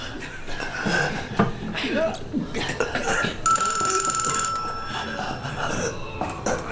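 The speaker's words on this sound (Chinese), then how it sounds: "团长，这墙里好像有个电话。" A telephone rings from inside a wall in a war-film scene at a besieged warehouse during the Battle of Shanghai, a steady electronic trill of about a second amid urgent shouting voices and battle commotion.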